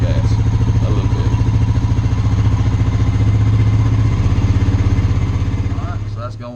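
A Honda Rancher ATV left outside for years idles with a little diesel mixed into its gasoline, a close, steady, evenly pulsing engine rumble that runs unbroken and eases slightly at the end.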